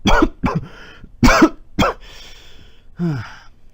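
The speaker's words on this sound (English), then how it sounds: "Cough just won't go away." Several harsh coughs and throat clears close up, in short bursts with pauses between them, ending with a strained, voiced cough.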